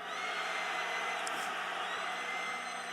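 Crowd at an outdoor political rally keeps up a broad, continuous roar of shouting voices, steady and fairly distant, with a faint voice briefly cutting through.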